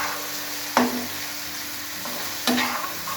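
A spice paste fries in a pan with a continuous hiss, and two distinct spatula strikes and scrapes ring out against the metal, close and clear.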